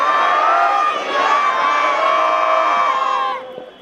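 A Sikh congregation shouts the jaikara response in unison, a loud, sustained crowd roar lasting about three seconds before trailing off abruptly.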